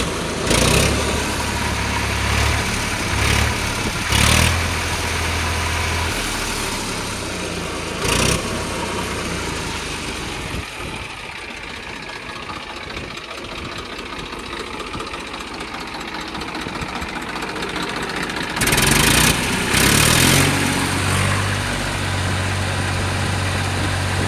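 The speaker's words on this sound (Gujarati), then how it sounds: "બરાબર, એન્જિન સ્ટાર્ટ કરી દીધું છે." A Sonalika 740 tractor engine idles steadily and close, a continuous low mechanical chug and rumble with no change in pace for the whole stretch.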